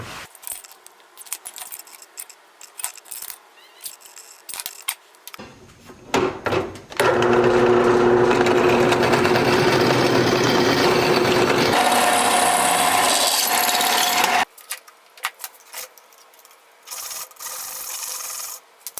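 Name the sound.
power drill drilling holes in metal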